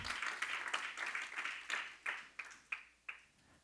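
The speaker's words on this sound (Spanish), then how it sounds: "Dale palmas." Congregation clapping in a church service, a burst of many hands that thins into a few sharp, spaced claps fading away over a few seconds.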